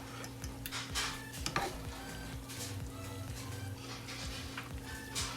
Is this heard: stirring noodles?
yes